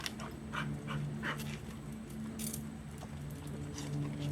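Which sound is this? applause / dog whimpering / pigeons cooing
dog whimpering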